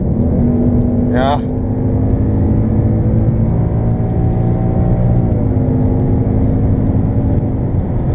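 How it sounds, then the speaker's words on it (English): Inside a 2019 Ford Mustang in normal drive mode, the engine gives a loud, steady, droning roar under acceleration, and a voice speaks briefly. "If I put my foot down, it will be very fast to kick down."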